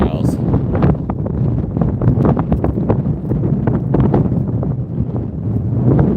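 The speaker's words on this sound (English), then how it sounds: "Really windy though." Strong wind gusts across flat, open prairie, a steady roaring rush close to the microphone with buffeting bursts throughout.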